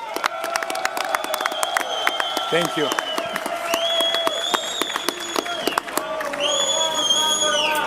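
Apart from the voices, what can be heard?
crowd applause and cheering for boxing champion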